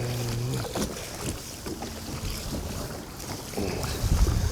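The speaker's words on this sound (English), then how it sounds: "That wind just picked up." Wind gusts buffet a kayak out on open water, a rough, blustery rush of microphone wind noise that swells and surges unevenly throughout, with some low thumps and water movement beneath and no voices.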